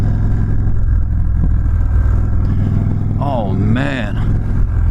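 An Indian Chief Darkhorse motorcycle engine drones with a continuous low rumble while accelerating, close and strong. Someone talks over it briefly.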